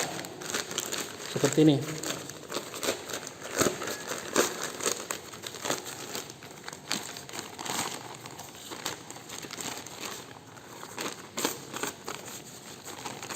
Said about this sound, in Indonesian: Jadi ini bisa kita kecilkan, dilipat